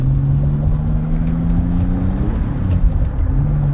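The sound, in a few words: Pontiac Fiero car driving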